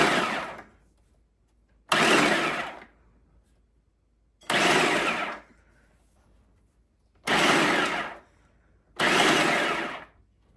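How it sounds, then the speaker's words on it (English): A Cuisinart 7-Cup Continuous Feed food processor pulse-chops onions in five loud whirring bursts of about a second each, separated by near-silent gaps. "For the onions, I decided to use the pulse button to try and get some even chops."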